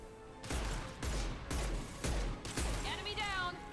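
Mass Effect concussive shot fires in a video game: four heavy, evenly spaced blasts about half a second apart, each with a deep thump and bright crack, followed by a warbling electronic whine.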